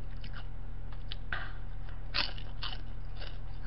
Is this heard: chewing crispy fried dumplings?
yes